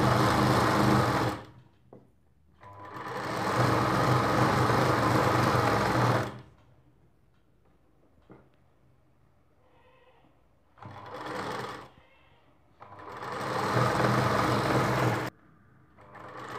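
Sewing machine running a line of stitching on the piping of a Rajputi dress, three strong sustained runs separated by quiet gaps, near and loud.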